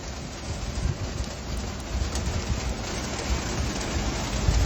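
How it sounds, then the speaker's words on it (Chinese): Heavy rain pours down in a dense, continuous roar, heard from shelter inside a small three-wheeled vehicle during a downpour, with no voices. "哎呀，一场大雨。"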